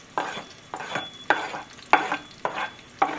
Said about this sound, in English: It got a little sizzle to it, so we'll go ahead and put this in there.